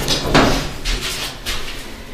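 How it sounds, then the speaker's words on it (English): A hydraulic elevator door at a train station slides shut with a few soft rumbling thuds and a low mechanical hum, fairly close with no talking. "the door does close when you push the button"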